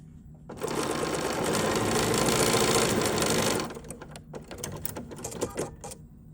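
A sewing machine stitching quilt squares together in pairs runs in one steady, fast, close burst for about three seconds, then stops, leaving scattered handling clicks and fabric rustle.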